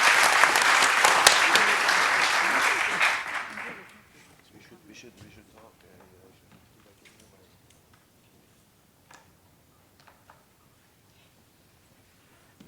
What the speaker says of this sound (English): a big round of applause for all of our panelists